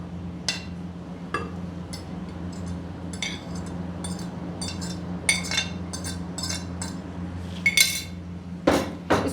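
Eggs stirred into a baingan (eggplant) vegetable mixture in a bowl for crispy baingan tikki, heard as scattered clinks and taps of a utensil against the bowl over a steady low kitchen hum, no talking.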